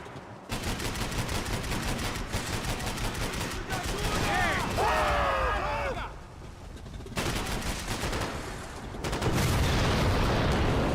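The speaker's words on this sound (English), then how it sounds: "I can't concentrate with bullets whizzing past my head!" Gunfire and bullet impacts in Max Payne 3, with dense bursts of shots and rapid automatic fire running nearly throughout, loud and close, broken by brief pauses, with game voices talking over parts of it.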